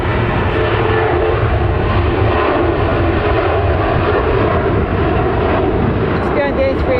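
A jet airliner at Manchester Airport, seen beside an Airbus A380, giving a loud, constant broadband engine roar that stays even throughout, with a faint higher whine near the end.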